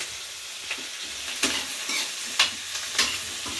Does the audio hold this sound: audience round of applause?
no